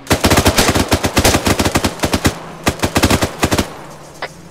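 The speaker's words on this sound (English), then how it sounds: "Warning shot the fuck out of him." Warning shots fired in Arma 3: rapid, close bursts of automatic gunfire with short gaps between strings of shots, ending in a couple of scattered single rounds.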